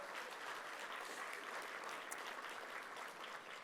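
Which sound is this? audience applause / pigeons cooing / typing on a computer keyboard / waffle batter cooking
audience applause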